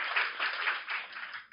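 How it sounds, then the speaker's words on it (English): An audience at a live podcast recording in Melbourne breaks into applause, a brief burst of steady clapping with a slightly bandlimited, distant quality. "that deserves a clap"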